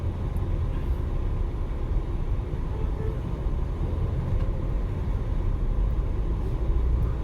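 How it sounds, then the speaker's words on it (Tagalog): Road traffic in Riyadh makes a continuous low rumble of engines and tyres, steady and fairly loud, with no voices. "Ayan, nandito kami sa traffic na ano, na kalsada."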